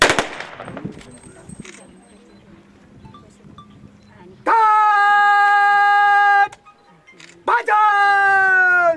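Gunfire salute rounds fired at a martyred soldier's funeral: a sharp, loud burst at the start, then quieter crowd noise and long, loud sustained tones.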